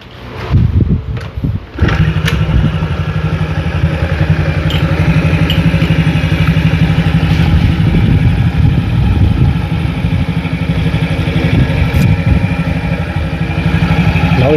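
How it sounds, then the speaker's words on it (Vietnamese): A Honda Cub 81 50cc motorcycle engine cranks with a few sputters, catches and settles into a steady, close, loud idle with a light mechanical clatter running throughout. "Rồi giờ mình sẽ nổ máy test thử ha."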